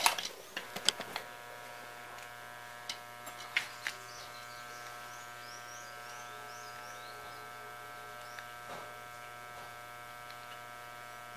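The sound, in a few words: welding machine used as autotransformer humming when switched on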